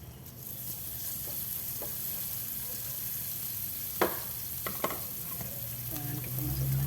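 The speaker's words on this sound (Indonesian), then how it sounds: "Kita tumis dulu." Spice paste sizzles steadily in a hot frying pan as it is sautéed and stirred, with a few sharp scrapes and clicks of a utensil against the pan partway through.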